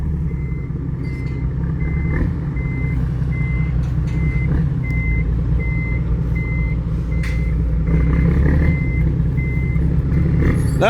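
A tractor-trailer truck backs up loudly and close by, its reversing alarm beeping at a regular steady pace over a constant diesel engine rumble, with a brief hiss near the end.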